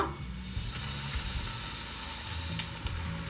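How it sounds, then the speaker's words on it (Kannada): Large chicken pieces fry in hot oil in a pan for an Andhra-style chicken 555, giving a steady, close sizzle with a few sharp crackles and spits and no voices. "ಇದರಲ್ಲಿ ಇವಾಗ ದೊಡ್ಡ ದೊಡ್ಡ ಪೀಸ್ಗಳು ಏನಿದ್ದಾವೆ ಅದನ್ನೆಲ್ಲ ಮೊದಲಿಗೆ ಫ್ರೈ ಮಾಡ್ಕೊಂಬಿಡಬೇಕು"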